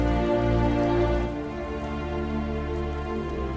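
Steady rain in a film scene from Road to Perdition, a dense soft patter under a low sustained musical drone that eases slightly partway through.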